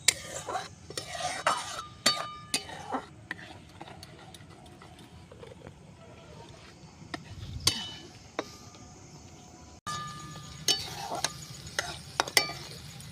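Paneer stirred and sautéed in a pan during homemade village cooking, with a steady run of spoon scrapes and taps against the metal over a soft sizzle, close and moderately quiet.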